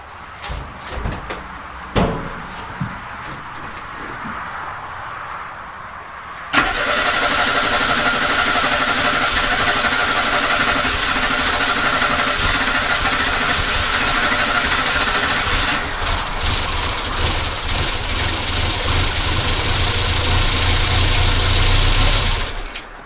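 A Renault Twingo 1 with an ignition fault cranking as it tries to start, a loud, continuous, close engine drone that kicks in after a few seconds of light knocks and persists unbroken to the end.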